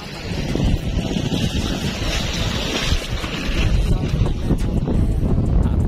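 Strong wind buffets the microphone in loud, rushing gusts, with a roaring low rumble that swells and fades throughout, outdoors on rocky ground.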